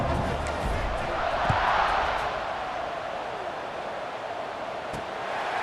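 Stadium crowd noise from the EA Sports College Football 26 video game, a steady dense roar of cheering fans that swells slightly early on and then holds at a constant level throughout.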